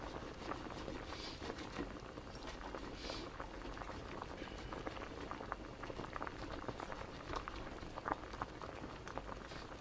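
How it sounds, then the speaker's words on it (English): Water for mac and cheese boils steadily in a pot, a dense, constant bubbling and popping that runs unbroken at an even level with no voices over it. "nice boiling sound"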